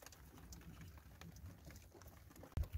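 Rain falls on a camper van in soft, scattered patter and faint drips, with a sudden loud knock near the end.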